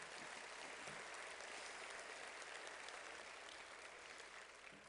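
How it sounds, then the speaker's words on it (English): A luncheon audience at an awards event applauds its sponsors with a soft, distant, even patter of clapping that continues steadily throughout. "If you could give them a round of applause for their financial support."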